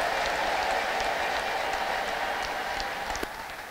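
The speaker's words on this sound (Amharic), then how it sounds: "ለጌታ ክብር ያለው ሰው ከፍ ያለ እልልታና ጭብጨባ ያምጣ" A church congregation at a prophetic healing service claps and ululates loudly, a dense, sustained roar of hands and high trilling voices that holds, then eases slightly.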